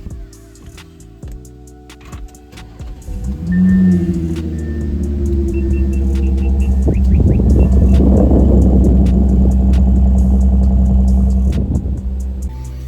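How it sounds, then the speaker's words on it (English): A starter cranks briefly, then an Audi car engine catches on a cold start with a loud rev and settles into a high, steady rumble that carries on to the end. "let's get a cold start"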